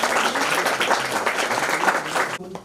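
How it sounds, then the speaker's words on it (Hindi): Loud, dense clapping from a crowd at a retirement function, sustained steadily for over two seconds before cutting off abruptly near the end. "जोरदार तालियां"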